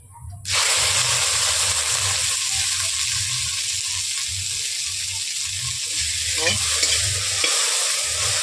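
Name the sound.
okra frying in oil in a wok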